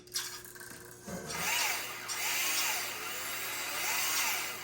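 A slot car on a Viper chassis with a white GT40 body and low tires runs around the track, a whirring electric motor rising and falling in repeated passes with a scraping, rattling front end.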